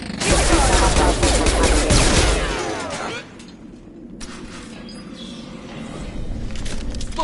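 Dense, rapid gunfire from a Mass Effect 2 firefight, loud bursts packed together for about three seconds, then a thinner spell of scattered shots and clatter with a quieter background that swells again near the end.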